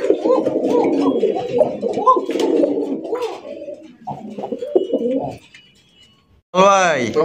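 Domestic local pigeons kept for sale coo in low, throaty rolls up close, mixed with wing flutters and voices talking, with a bright rustling burst at the end.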